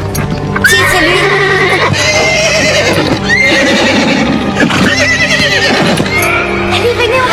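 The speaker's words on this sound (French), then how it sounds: "Ce n'est pas le cheval de Véronica?" Cobalt, a horse, whinnies loudly several times over a busy music-filled cartoon soundtrack, with hoof clip-clops mixed in and voices around it.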